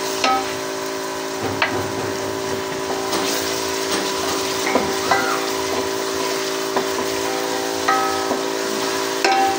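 Chopped green onions fry in a pan for pulao, a loud continuous sizzle with a steady hiss and occasional clinks and scrapes of stirring throughout.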